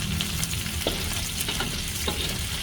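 Pieces of fish, snapper head and biawan, fry in hot oil in a pan, a steady loud sizzle with occasional sharp pops and spatters as the fish is turned.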